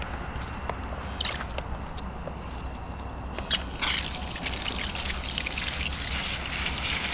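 Water poured from a container to rinse a dog during a bath, a steady trickling stream splashing close by with small bumps and rustles.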